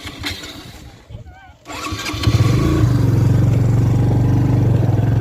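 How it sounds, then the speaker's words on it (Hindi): A motorcycle engine starts up and settles into a steady, loud running drone that carries on close by to the end, following a short quiet gap. "तो बाइक में चढ़ता हूँ मैं पहले।"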